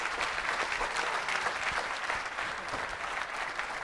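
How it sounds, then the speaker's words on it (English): An audience applauds interns after their summer presentation with dense, even clapping that holds steady for nearly four seconds at moderate volume, with no voices over it. "I think we should all give these guys a great round of applause"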